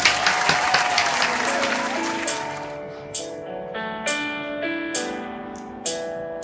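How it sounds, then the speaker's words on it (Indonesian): A group claps at an online children's worship service. A burst of applause thins out over a few seconds while soft piano-like music rises beneath it. "Yuk kita kasih tepuk tangannya."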